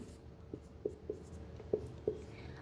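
Chalk or marker taps and short strokes on a board during a chemistry lesson, five or so faint, separate ticks over a quiet room hum.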